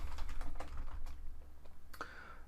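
Commands are typed on a computer keyboard at close range, a quick burst of clicky keystrokes followed by a pause and a few more taps.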